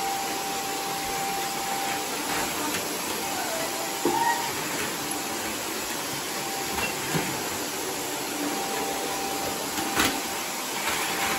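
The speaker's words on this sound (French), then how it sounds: "je vais aller passer un coup d'aspirateur dans le salon et dans la salle à manger" A steady vacuum cleaner drones continuously with a constant hiss and hum, a few faint bumps and clicks over the top.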